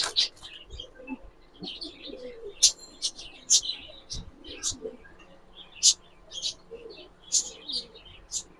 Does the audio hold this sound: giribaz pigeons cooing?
yes